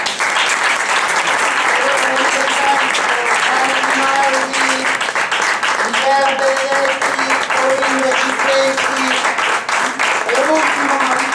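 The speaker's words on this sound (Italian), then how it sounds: "E grazie alla banda del racconto, un applauso." Sustained applause from a crowd at a school poetry event in Viterbo, Italy, loud and steady throughout, with a few voices calling out over the clapping.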